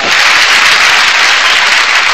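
A mushaira audience breaks into dense, loud applause for a poet, with steady massed clapping filling the short stretch.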